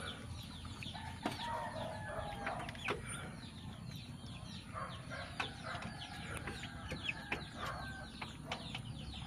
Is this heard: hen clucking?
yes